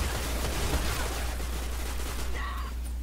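Dense, rapid gunfire rattles constantly in a Destiny Trials match, a loud continuous barrage of shots with a brief chime near the end.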